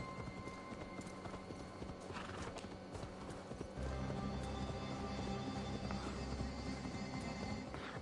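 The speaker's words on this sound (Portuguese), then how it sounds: "cavalo está em câmera lenta" In Assassin's Creed Valhalla, a horse's hooves clip-clop in a steady, fast rhythm, moderately loud, over a low wash of game ambience that grows fuller partway through.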